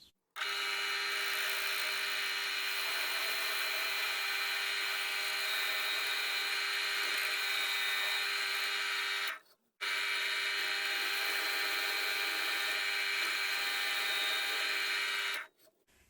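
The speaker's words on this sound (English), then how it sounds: "So I'm going to drill those now" A power drill whines steadily for about nine seconds while drilling holes in wood, stops briefly, then runs again for another six seconds, close and loud.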